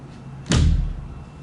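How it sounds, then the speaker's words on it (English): A closet drawer door in an apartment bedroom shuts with a single close thud that decays quickly into the quiet of the room. "Close the drawer doors."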